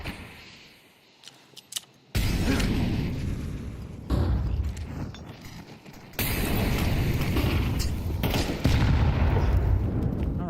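Gunfire and grenade blasts from a Counter-Strike 2 esports match pound in loud, sustained bursts that cut in abruptly and stack on one another, with no talk over them.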